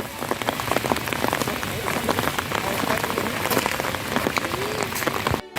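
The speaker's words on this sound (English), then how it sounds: "The damn rain could stop by now" Steady rain pours onto a hard surface at Schloss Hellbrunn in Austria with dense, close pattering drops, then cuts off abruptly at the end.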